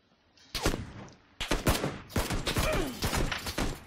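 Gunfire in the video game Battlegrounds: sharp single shots, then clustered bursts of rapid cracks with short gaps, loud and close.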